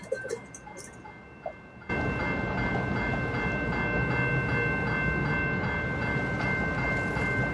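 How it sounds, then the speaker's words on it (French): A tram passing on a downtown Calgary street, heard as a loud steady rumble and rolling roar that starts abruptly and continues with a sustained tonal hum, close by with no talk. "Y a le tramway là en plus."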